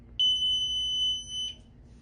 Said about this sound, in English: Okay, it beeped, it's ready.